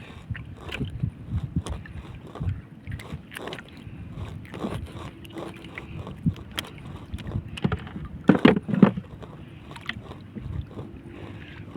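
A small fishing boat paddled by hand at sea against a strong current: close splashing paddle strokes with wooden knocks and scrapes, irregular in rhythm, with no talking.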